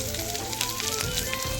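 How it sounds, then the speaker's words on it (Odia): Garlic, onion and chili fry in hot oil in a pan, making a steady, dense sizzle with crackling pops. It sounds close and constant over a brief stretch. "ତେଲ ଦେଇ ସେଥିରେ ରସୁଣ ତାପରେ ପିଆଜ ପକେଇକି"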